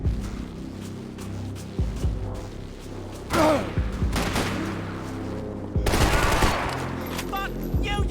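Max Payne 3 gunfire comes in several sharp, loud bursts of rapid shots and fusillades, separated by quieter stretches, with a voice shouting briefly among the shots.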